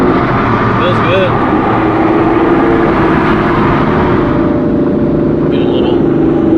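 A 1000 hp built, big-turbo B58 Toyota Supra runs under rolling throttle inside a tunnel. Its droning engine note echoes and holds loud and steady throughout, with no sharp revs.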